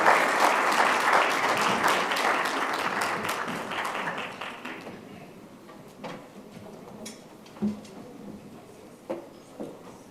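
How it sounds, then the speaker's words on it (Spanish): Applause from a conference audience for a panel on certifying green hydrogen for export, in Chile, dense and steady for about five seconds, then thinning to a few scattered claps and small knocks. "un fuerte aplauso para este panel"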